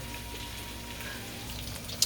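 Shoestring French fries frying in hot oil, a steady close sizzle with fine crackling running evenly throughout, ending in a brief louder pop.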